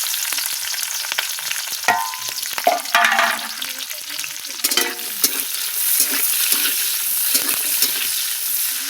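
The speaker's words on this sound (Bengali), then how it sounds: "পেঁয়াজ আর ক্যাপসিকামটাকে ভালো করে ভেজে নেব।" Chopped onion and capsicum sizzle steadily in hot oil in a pan, a continuous crackling fry broken by scraping stirs of a utensil, close and without talk.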